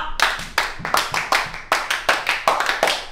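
A group claps hands together in a rhythmic pattern, a few quick claps then a pause, repeated over several seconds, close and fairly loud, with a low hum beneath.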